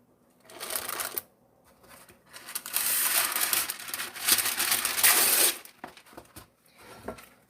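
Parchment paper torn off a roll for lining pie pans for a chicken pot pie, several crisp ripping and crinkling bursts, close and fairly quiet, with short pauses between tears.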